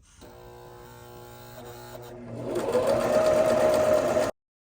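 Sewing machine zigzag stitching along coiled rope to form a rope bowl, heard as a close, loud motor whir that starts slowly and speeds up into a fast, steady buzzing run before stopping abruptly.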